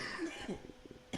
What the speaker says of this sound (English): This cough is so annoying